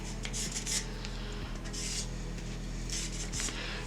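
A marker or scribe rubs around a curve on a strip of steel clamped to a garden bench frame, giving soft, close scratchy strokes in short bursts with no talking.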